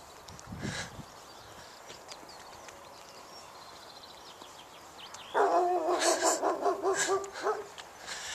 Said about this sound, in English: See if the dog barks.